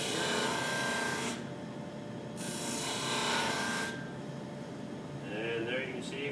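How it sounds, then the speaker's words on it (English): A disc sander works a curved wooden piece under light pressure, giving a steady broadband rasping hiss that surges in three sanding passes with short quieter gaps between them. "You'll notice we'll get a cloud of dust come up when we sand this."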